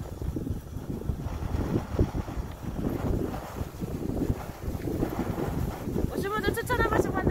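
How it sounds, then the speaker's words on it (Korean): Strong gusts of wind batter the microphone at a seaside fishing spot in Yeosu, a continuous rumbling buffet throughout with a brief higher whistling near the end. "바람이 너무 많이 불어"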